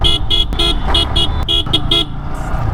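A loud, close motorbike horn honks in a series of short bursts, roughly seven beeps in quick irregular succession, over steady road and engine noise.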